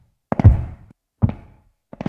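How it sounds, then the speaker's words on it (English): AI-generated footsteps on a wooden floor, meant to carry very wet reverb: three hollow knocking steps spaced about a second apart, each with a short fading reverberant tail in an otherwise silent space. "And footsteps on a wooden floor and reverb very wet."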